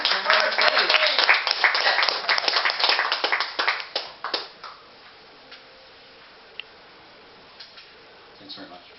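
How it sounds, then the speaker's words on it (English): An audience at a live performance evening applauds as the next act is introduced: dense, full clapping for about four seconds that quickly thins and fades to near silence, with a stray clap or two after. "Give him a round of applause."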